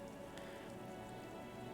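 Steady rain dripping and pattering off Eternite-covered roofs on an urban coastline in the video game Disco Elysium, a dense, even wash of drops with a few brighter splashes, no voices.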